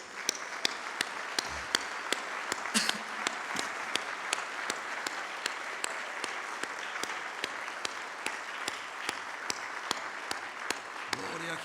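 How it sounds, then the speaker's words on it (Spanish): Steady applause from a congregation fills the room at a church service, dense continuous clapping with a few sharper individual claps standing out, and a voice briefly heard underneath. "Demos un aplauso a nuestro Dios."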